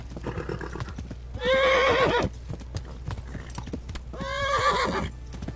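Rapid hoofbeats of a galloping horse in the video game Kingdom Come clatter throughout, broken by two loud horse whinnies, with no speech.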